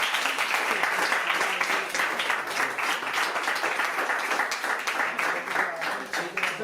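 Sustained loud applause from the crowd at a Cruz Roja volunteers' Christmas dinner in a hotel, dense continuous clapping filling the room with voices mixed in.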